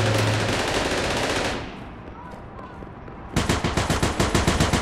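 Rapid automatic gunfire from the online shooter APB Reloaded, with a loud burst of shots that falls away into a quieter lull, then resumes as a steady, closely spaced volley.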